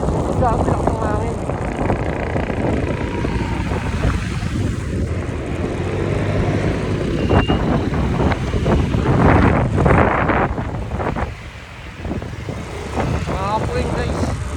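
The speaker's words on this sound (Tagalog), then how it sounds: "Grabe lang ng hangin." Strong wind buffets the microphone of a rider on a motorcycle commuting to work, a steady loud roaring rush that continues throughout with slight dips.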